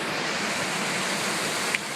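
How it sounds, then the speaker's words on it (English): Steady broadband roar of a waterfall spilling off a glacier at the bottom of Zigzag Canyon on Mount Hood, Oregon, a constant distant wash with no voices. "there's a waterfall that's coming off of the glacier"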